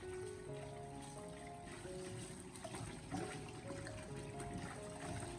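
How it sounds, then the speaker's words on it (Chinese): Running tap water flows over chili peppers being rinsed in a kitchen sink, a continuous close trickle and splash with faint handling, no speech. "用流动的自来水将其清洗干净"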